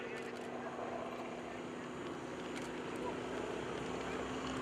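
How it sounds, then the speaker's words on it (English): A radial-engine airplane flying at a lakeside airshow produces a steady, distant droning hum with a faint sustained tone, and a voice may be talking over it. "There's the sound of the engine."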